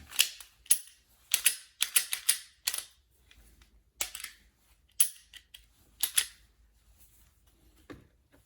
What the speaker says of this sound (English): Okay, now we can unlock the slide.